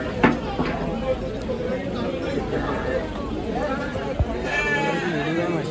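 Goats bleat amid the murmur of a busy livestock market in Ajmer, with several cries rising over a crowd's chatter and someone talking nearby.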